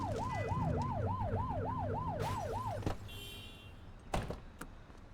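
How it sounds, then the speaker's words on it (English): A police car siren in The Precinct video game wails in a rapid rising-and-falling cycle over engine hum, then cuts off and leaves road noise and a few thuds. "Get behind them and hit the siren and make them pull over."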